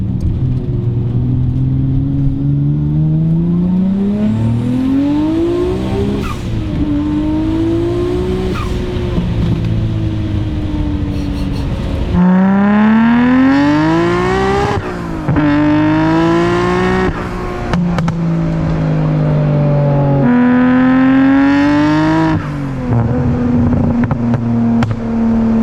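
A 650 hp Nissan R34 GT-R engine revs hard and accelerates through repeated rising gear pulls, loud and close, with brief dips between shifts and no voices over it.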